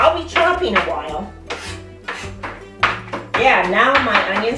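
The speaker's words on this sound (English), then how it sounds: "I'll be chopping a while." Knife chopping onions on a board while making a corn, avocado and tomato salad, heard as a steady series of close, crisp taps under ongoing talk.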